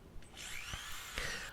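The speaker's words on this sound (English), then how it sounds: "none of the other holes came pre-drilled, so there was a lot of drilling involved" Power drill boring holes into the wooden body of a Pango Razorback PDR-057 guitar kit, a fairly quiet, close whine lasting the whole moment with brief rises in pitch and no talking.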